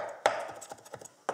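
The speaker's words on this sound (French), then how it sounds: "on hache l'ail" A knife chops garlic on a cutting board in a kitchen where frogs and mussels are being cooked, a few sharp, uneven taps, one louder hit near the start and another at the end.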